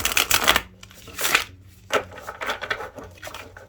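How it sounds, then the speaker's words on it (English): A tarot deck being overhand shuffled in quick papery bursts, several rapid flutters separated by short pauses, close up, with no speech. "Overhand shuffling is not my preferred way to shuffle."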